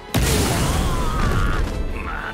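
A loud, sudden boom opens the skull explosion attack in One Piece Odyssey, then a dense blast roar rolls on for about two seconds with crackling debris and rising tonal whooshes.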